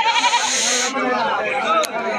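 Mother goats with kids bleat loudly and repeatedly at a rainy-day livestock market in Bangladesh, several close calls overlapping with the chatter of people nearby.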